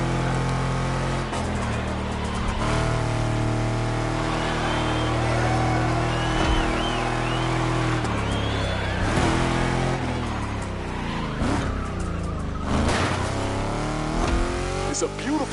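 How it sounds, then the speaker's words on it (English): Race car engines in The Crew Motorfest on PS5 roar and rev continuously through gear changes, loud and close, with someone talking over them. "Let's hear these engines."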